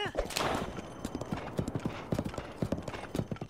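Rapid clip-clop of horse hooves beats out a steady galloping rhythm in The Legend of Zelda: Breath of the Wild, close and crisp, with a brief whinny at the start.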